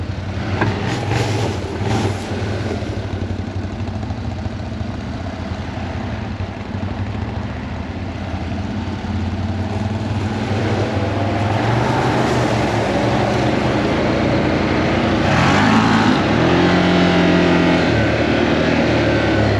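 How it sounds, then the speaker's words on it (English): A steady line of cars and trucks passes on a road in Petty Harbour, Newfoundland, making a continuous close drone of engines and tyres that swells near the end as a louder vehicle goes by. "Hey, what a line of traffic."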